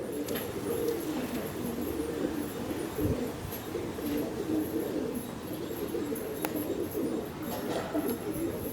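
Domestic racing pigeons coo softly and steadily at an evening loft in Avvainagar, Coimbatore, a continuous low murmur of several birds with occasional faint chirps and no talk over it.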